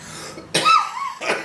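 Two harsh, close coughs from someone with a chest cold, the first longer and raspy with a throaty wheeze, the second shorter, separated by a brief pause.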